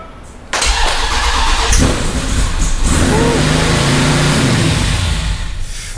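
A 426 supercharged HEMI V8 in a Dodge Dakota pickup cranks and catches with a sudden loud roar, revs hard, then settles into a heavy, rumbling idle that stays close and loud to the end.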